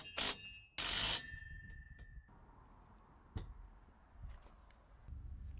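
A ratchet fitted with a 14mm socket tightens bolts on an anti-sag gate. Two loud, quick bursts of clicking are followed by quieter scattered taps and handling noises close by.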